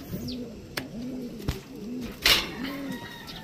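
Pigeons coo softly in repeated low calls, with a few sharp clicks and a brief rustle of wings or movement nearby.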